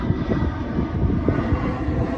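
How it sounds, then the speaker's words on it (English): An airplane flies overhead as a steady low engine drone, moderately loud and continuous, with no talk. "all these planes want to fly over"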